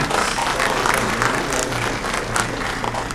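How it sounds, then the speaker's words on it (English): Audience applause at a law school graduation and recognition day ceremony, a dense continuous roar of clapping from a large crowd throughout. "you people need a huge round of applause"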